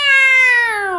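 A human voice imitates a cat's meow, one clear, close drawn-out call that slides slightly downward in pitch.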